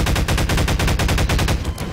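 A big gun in Garry's Mod fires a rapid, loud automatic burst of evenly spaced shots, close and continuous, fading slightly at the end with no voices.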